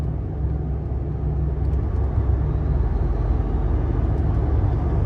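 A dump truck rolls slowly through congested city traffic at a near-constant speed, its heavy diesel rumble low and steady inside the cab with little change from start to end.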